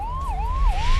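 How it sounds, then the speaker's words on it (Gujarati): A 108 emergency ambulance siren in Gujarat wails steadily in a rising and falling sweep, loud and close, over low rumbling traffic noise with no voices. "108 એમ્બ્યુલન્સ સેવા"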